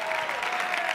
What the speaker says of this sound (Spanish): Fuerte aplauso para visto lo visto